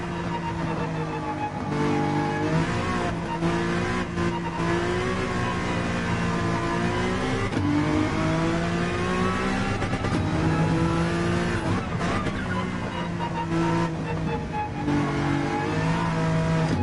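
A Porsche 911 Gr.3 race car in Gran Turismo 7 screams at high revs for the whole stretch, its engine note rising and dropping through rapid gear shifts and lifts into corners, loud, close and steady, with no talking.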